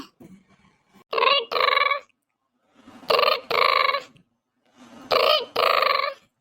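A telephone rings in three separate rounds of two bursts each, a trilling electronic ring with short gaps between bursts and a longer pause between rounds, fairly close and clear, with faint background noise and no talking.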